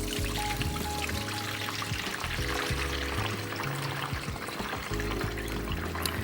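Milky rinse water poured off rice grains being washed for sushi, a steady continuous splashing pour running throughout, with no talk over it.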